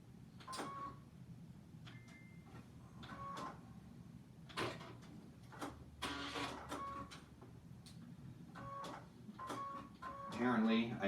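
A sewing machine stitches a quarter-inch seam on a zippy clutch in short, quiet mechanical bursts, with a voice talking over the stitching.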